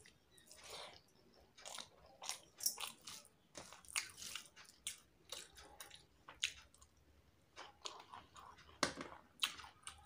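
Someone eats spicy mutton curry with rice up close, with soft, irregular bites, chewing and wet smacking sounds in quick bursts, and no talking.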